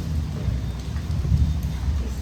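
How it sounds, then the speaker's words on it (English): Steady rain falling outdoors at night, a continuous low rumbling wash with faint patter, holding at a constant level throughout with no voices. "He got me in this rain."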